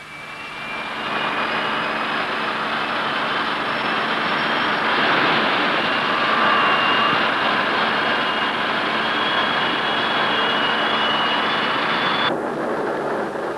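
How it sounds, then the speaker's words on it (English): A Fairey Delta record-breaking jet roars steadily overhead, loud and sustained, with a high whine over a broad rushing drone that cuts off abruptly near the end. "a new aircraft, the Fairey Delta, broke all records for conventional planes"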